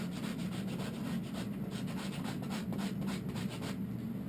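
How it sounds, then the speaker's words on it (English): A piece of pumice stone rubbed back and forth across the back of a deer hide during tanning, a quiet, steady rasping scrape in rhythmic strokes, close and alone without talk. "See that piece of pumice? It's like taking a piece of sandpaper."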